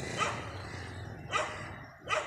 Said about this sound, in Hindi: जंगली कुत्ते आ गए जी